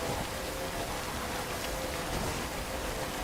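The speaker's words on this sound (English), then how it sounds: "Also, if it could stop raining, that would be amazing." Steady rain pours down in Death Stranding, a dense, even hiss of drops on surfaces, constant and moderately loud with no voices.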